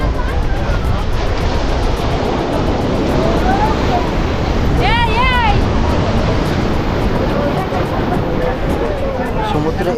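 Rough sea waves churn at the Digha estuary beside a boulder-lined road, a loud, constant roar of surf close by, with the chatter of a crowd and a few high calls mixed into the noise.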